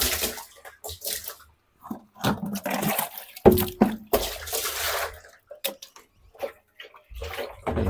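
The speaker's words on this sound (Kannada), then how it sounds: "ಸ್ವಲ್ಪ ನೀರು ಹಾಕಿ ಚೆಲ್ಬಿಡ" Water splashes and gushes in bursts into a drum being rinsed clean, with irregular pours, drips and sloshing up close; brief pauses fall between the splashes.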